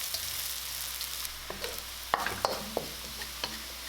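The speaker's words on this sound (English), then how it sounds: "We're gonna pan fry the noodles until golden brown for about 3 minutes." Noodles pan fry in avocado oil with a soft, even sizzle close up, broken by a few sharp spatula taps and scrapes against the pan.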